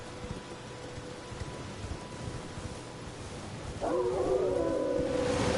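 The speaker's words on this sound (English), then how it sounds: "Here comes the dog again." A dog in the video game Elden Ring howls in a rising, wavering cry that starts partway through and grows louder. Before it there is a low rumbling ambience like rain and distant thunder.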